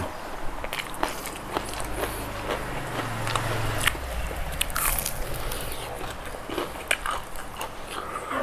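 Crispy freshly fried chicken with fish sauce, bitten and chewed close up, giving repeated crunchy crackles and soft mastication sounds over a quiet room with faint background noise.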